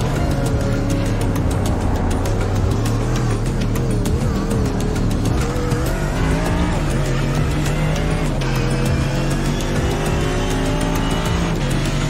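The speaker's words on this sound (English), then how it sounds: "We've got a car spun." Race cars howl through the Suzuka chicane in iRacing with loud, continuous engine drone and shifting pitch, and tire squeal rises as a car spins out.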